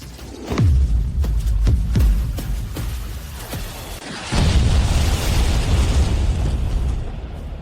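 A second explosive shell detonates in a dramatized battle: several deep booms thud in quick succession, then a louder, sustained blast roars and rumbles on to the end, with no talking.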